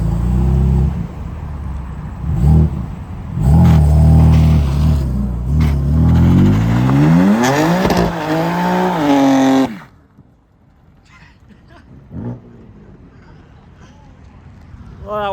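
A Mercedes C63 AMG 507 Edition doing a burnout, its engine revving loudly in rising and falling sweeps for several seconds before cutting off abruptly, leaving quiet surroundings with faint voices nearby.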